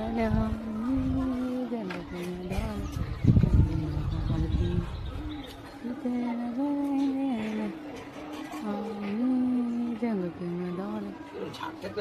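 Racing pigeons being prepared for a tournament coo in low, rolling phrases close by, in repeated bursts with a brief flurry of noise partway through, under a person talking.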